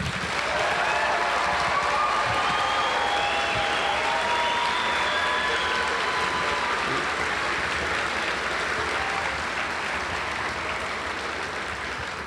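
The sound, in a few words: audience applause for the graduates at commencement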